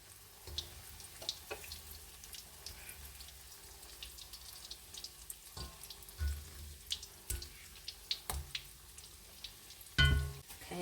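Drop donuts bubbling and sizzling in hot frying oil, a steady crackle with scattered pops and a few louder clatters near the end, no voices.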